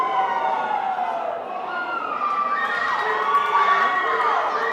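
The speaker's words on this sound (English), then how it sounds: "You hear the crowd." A wrestling-event crowd roars and cheers loudly and continuously, with high shouting voices and wavering whistles and yells rising over the dense arena noise.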